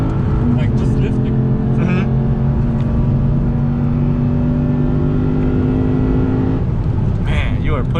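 A Lexus RC F Track Edition roars loud and close on the Nürburgring Grand Prix circuit, its engine droning at a steady pitch under throttle with wind and cabin noise, and a voice breaks in briefly near the end.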